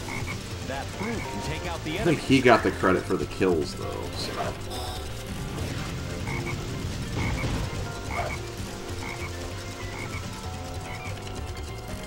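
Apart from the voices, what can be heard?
frog croaking in the video game Sonic Heroes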